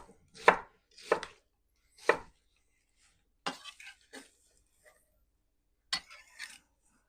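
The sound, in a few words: knife chopping onion on cutting board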